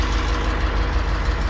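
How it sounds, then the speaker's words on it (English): Tractor engine idling while warming up with a spreader hooked up, a steady, loud, close low rumble with a constant even throb and no other sounds. "I got the tractor sitting here warming up"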